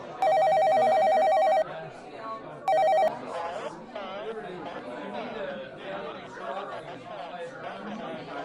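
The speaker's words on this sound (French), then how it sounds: "Mais attendez, mon téléphone." A telephone rings in two bursts, a long electronic trill followed by a shorter one after a pause, loud over a background of crowd chatter and overlapping speech.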